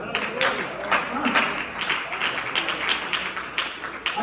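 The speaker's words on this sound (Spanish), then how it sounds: "Denle un aplauso al Señor." A church congregation applauds together, a steady wash of clapping filling the room for several seconds without letup, with some voices mixed in.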